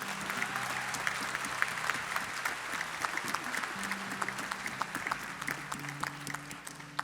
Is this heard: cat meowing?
no